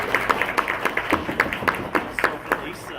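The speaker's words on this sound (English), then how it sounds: "give them a round of applause" A conference panel audience claps briefly in a sparse, uneven patter of hand claps that sounds moderately distant, with voices murmuring underneath.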